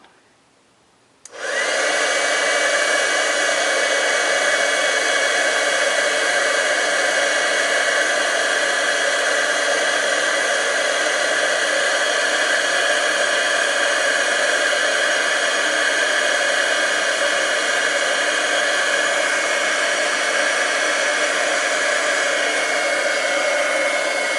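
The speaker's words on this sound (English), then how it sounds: "I'm just going to bring my heat tool in and give it a quick shot of heat" Embossing heat tool blowing hot air to set clear embossing powder over stamped colored ink: a steady loud airy whoosh starts abruptly after a brief silence and holds constant throughout, with no talking.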